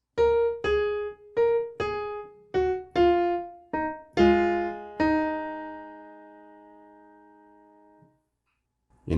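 Piano plays part 3 of the chorus of a song as a slow run of eight separate notes, ending on a held note that decays for a few seconds before a brief final sound, with no talking.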